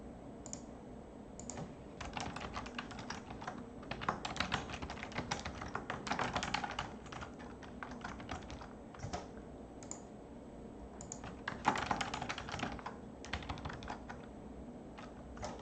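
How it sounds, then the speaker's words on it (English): Steady clicking of a computer keyboard being typed on throughout, a continuous patter of quiet keystrokes with brief pauses and a few louder taps near the middle, no voices. "Excuse my typing noises here."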